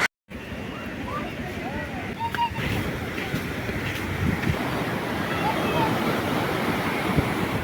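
Sea waves wash against the shore near the Ambedkar memorial in Mumbai as a steady, broad surf roar mixed with wind noise on the microphone. The roar swells slightly toward the end, and distant voices sit faintly beneath it.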